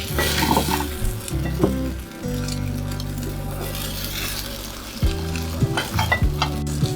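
French toast fries in butter in a pan just after being flipped, a steady close sizzle with occasional scraping and clinks of a utensil, and no voices.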